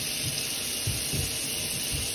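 Scalding hot water runs from a kitchen faucet in a steady, close splashing stream, with a few low thuds of water hitting the sink.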